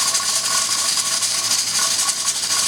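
A Presto 23-quart pressure canner on the stove hisses steam loudly and steadily as its weight rattles in a fast, continuous jiggle, close and without voices.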